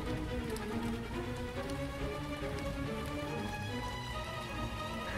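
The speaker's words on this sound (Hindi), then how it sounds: "बारिश भी बहुत तेज़ हो रही है।" Heavy rain pouring steadily during a storm, a dense, even hiss of drops drumming on surfaces with no pause from start to finish.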